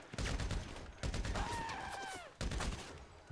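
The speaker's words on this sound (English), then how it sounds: "They're shooting me." Rapid bursts of gunfire in a GTA 5 shootout, loud dense volleys in three clusters with a whistling tone sweeping through the middle burst.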